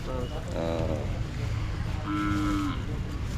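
Hallikar breed calves moo twice in a farmyard, fairly close and separated by a short pause, while people talk in the background.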